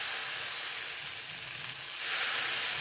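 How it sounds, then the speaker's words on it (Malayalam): Uttapam batter poured onto a hot pan sets off a loud, close, continuous sizzling hiss that builds slightly toward the end, with no talking over it. "അപ്പം അടുത്ത ഊത്തപ്പത്തിനുള്ള മാവ് ഒഴിച്ചു കൊടുക്കാം."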